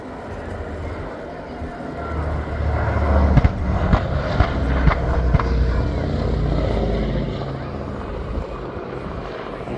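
A B-17 bomber flies past at an airshow, a loud, steady low piston-engine drone with rumbling swells and a few sharp bumps, under a faint announcer voice and crowd noise.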